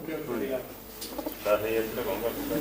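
A female pigeon coos in low, burbling phrases nearby, faint and partly under people talking, with a brief clatter at one point.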